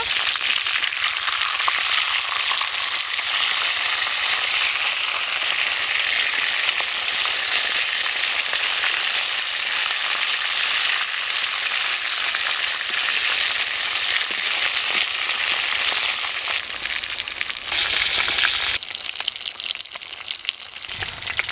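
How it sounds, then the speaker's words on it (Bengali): Salted, turmeric-coated tilapia sizzles in hot oil after being turned, a long, steady close-up hiss with faint crackles and a brief shift near the end as the pan is stirred. "একটু ভাজা হয়ে গেছে, এবার আমি একটু উল্টিয়ে দেব।"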